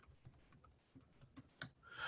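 Someone types at a normal pace on a computer keyboard to log into a system, giving soft, irregular key clicks close by with a short burst of louder clatter near the end.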